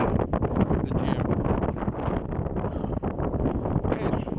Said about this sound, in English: It's freaking windy out here,